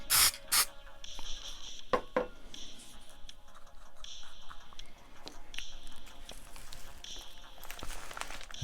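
Short hissing bursts from a spray paint can lay silver paint onto a plastic Star Wars Imperial patrol speeder model, quiet and close with soft handling noises in between.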